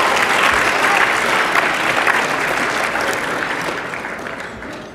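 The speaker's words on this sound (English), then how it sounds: "So let's give a round of applause to all of our speakers." Audience applause for speakers at an entrepreneurship conference: dense, steady clapping from a large crowd, loud and sustained, slowly tapering toward the end.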